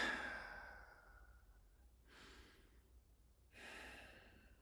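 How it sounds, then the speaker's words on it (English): Slow, deliberate deep breaths taken during a calming grounding pause, two soft airy exhales spaced a second or so apart, close and quiet with no talking. "I'm going to take another couple breaths."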